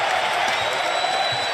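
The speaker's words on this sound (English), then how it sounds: "You could hear the crowd" Basketball arena crowd at an NBA game between the Milwaukee Bucks and Indiana Pacers, a steady broad roar of cheering that fills the whole moment without a break.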